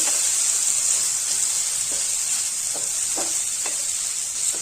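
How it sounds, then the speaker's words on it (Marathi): Grated corn sautéing in a pan over a steady sizzle, with a few faint scrapes of a spatula stirring through the mixture; close and continuous, with no voices. "त्याला याला थोडंसं परतून घ्यायचं आपल्याला 1-5 मिनिटं."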